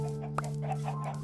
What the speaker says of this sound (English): We just keep making more chickens.